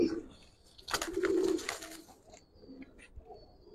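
A Giribaz pigeon gives a few soft, close coos in short bursts, with faint brief chirps and murmurs between them.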